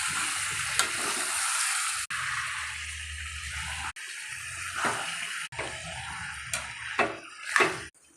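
One kilogram of washed chicken for curry being stirred and fried in a pan, giving a loud hissing sizzle broken by short pauses, with scraping, clattering strokes that grow busier toward the end.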